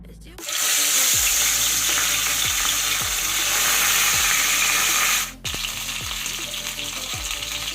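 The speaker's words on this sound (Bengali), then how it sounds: "এবার আমি মাছগুলো ভেজে নেব" Bhola fish pieces hit hot mustard oil in a wok, setting off a sudden loud, close sizzle that roars steadily, dips briefly, then carries on, with faint soft knocks underneath.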